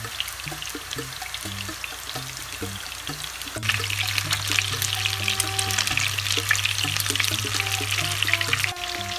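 Meatballs (köfte) for islim kebab frying in a pan alongside eggplant, a steady low sizzle that grows louder and denser midway as more meatballs drop in, with no talking.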